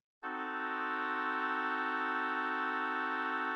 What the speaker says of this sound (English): Or we can have a full diminished chord